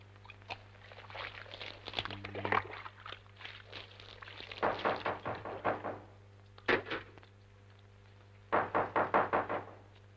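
Knocks land on a door in bursts of rapid raps, with a few single heavy blows between them, heard at moderate distance over a steady low hum.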